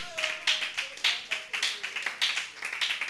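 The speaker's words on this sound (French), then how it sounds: "acclame très fort, acclame très fort" Congregation at a church service clapping steadily in a quick, even rhythm, fairly close, with a faint sustained tone beneath and no cheering voices standing out.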